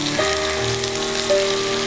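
Curry leaves dropped into a hot pan, not coconut oil, while cooking chicken chilly roast: a steady moderate sizzle with brief spitting crackles and a faint tonal hum underneath.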